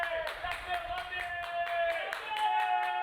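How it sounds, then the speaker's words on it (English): A crowd at a women's touch rugby match, New Zealand against the United States at the 2019 Touch World Cup, keeps up rhythmic clapping and cheering, with a commentator talking over it. "Listen to the crowd, mate."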